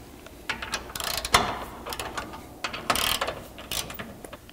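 Ratchet with an 18mm socket turning bolts on a Jeep Wrangler JL rear bumper, rapid clicking bursts in several close, loud runs separated by short pauses.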